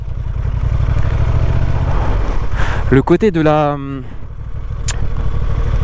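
A 2023 Honda XL750 Transalp motorcycle engine hums steadily at close range and then revs briefly, while someone talks over it.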